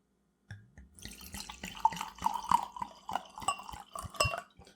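Wine poured into a glass close up, a trickling, gurgling stream with small splashes and clinks that rise and fall for several seconds without talk.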